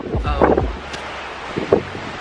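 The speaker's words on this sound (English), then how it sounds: "it's literally raining and so windy" Gusty wind buffets the microphone in a steady roar on a ship's balcony in rain, with a couple of brief rustling bursts; no one speaks.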